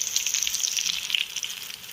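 Garlic and dried red chilies sizzle in hot oil for a South Indian tempering: a close, steady, bright crackling hiss with small popping spatters, no talking over it.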